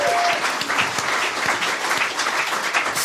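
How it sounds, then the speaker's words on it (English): A studio audience applauds on a comedy show, a thick sustained roar of clapping with some crowd noise that stays loud and steady for three seconds, with no talking over it. "A round of applause for Elsa, ladies and gentlemen."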